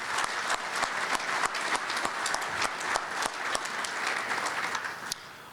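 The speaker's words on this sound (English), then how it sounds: "Would you please give them a round of applause?" Steady applause from a room of attendees at a United Way breakfast program, many hands clapping evenly and continuously, with a few sharp individual claps standing out and a slight fade at the end.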